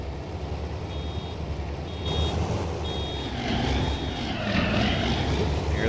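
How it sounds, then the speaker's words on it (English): Intermittent high electronic beeps sound during baling in Farming Simulator 19, set over a steady droning engine and machinery hum from the tractor and baler, with the engine noise rising toward the end. "beeping again."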